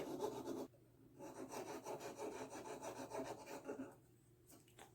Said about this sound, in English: we are going to have to clean this excess solder off